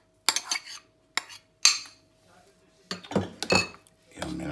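Pumpkin risotto being stirred with butter and parmesan in a pan, sharp metal clinks and scrapes of a utensil against the pan in uneven bursts, with short gaps of quiet between them.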